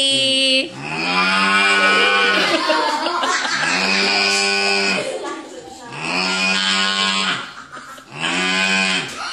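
A voice imitates a cow, giving four long, loud, drawn-out moos in a row with brief breaths between them.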